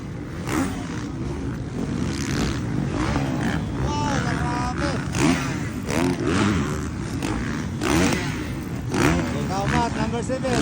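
Motocross motorcycles in a novice production open heat at a Valencia City competition rev and roar in overlapping waves, loud and steady throughout, under continuous excited commentary.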